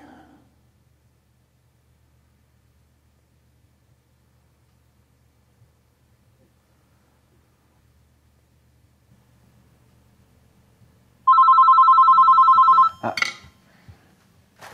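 A telephone rings loudly in a continuous burst of a little under two seconds, breaking a long quiet stretch, with rustling and a brief spoken interjection right after it.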